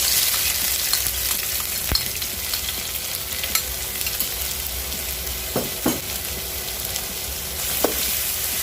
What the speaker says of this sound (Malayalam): കടായി ചൂടായിട്ടുണ്ട്, എണ്ണ നല്ലതായിട്ട് ചൂടായിട്ടുണ്ട്. അതിലേക്ക് നമ്മൾ ചതച്ച ഉള്ളി